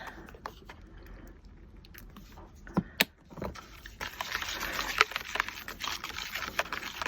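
A dark green color mix is stirred, giving soft scraping and clicking taps, faint and close, with a few sharper knocks and a busier, hissier stretch toward the end.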